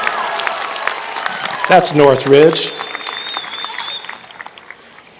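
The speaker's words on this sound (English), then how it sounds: "Oh, come on, give a better cheer for our new president here." Crowd at a university freshman convocation applauding and cheering a new president, a short burst of clapping and shouts after someone speaks, then fading under his voice.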